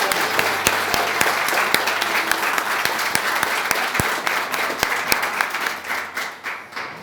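A church congregation claps loudly and steadily during a sermon, a full burst of applause with sharp individual claps that tapers off toward the end.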